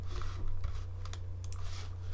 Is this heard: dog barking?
no